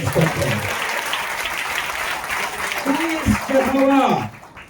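A church congregation at a Sunday service claps in a dense, sustained burst, with a voice speaking loudly over the applause before it fades.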